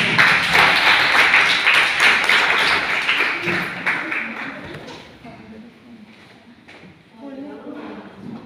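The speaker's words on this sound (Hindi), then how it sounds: "एक बार जोरदार ताली" Loud audience applause at a college Water Day program in a sociology department in Meerut, strong for several seconds, then fading out as a voice begins speaking.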